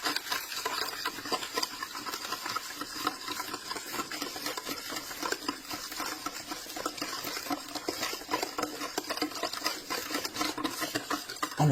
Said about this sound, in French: Je verse dans mon saladier et c'est parti, je vais tourner un coup